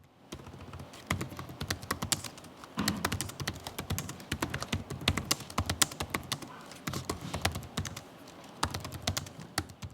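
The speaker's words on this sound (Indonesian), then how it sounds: "contoh suara feedback dari keyboard Acer Aspire Vero Nat" Rapid, continuous clicking of keys on an Acer Aspire Vero National Geographic Edition laptop keyboard, close up, with brief pauses between bursts of keystrokes.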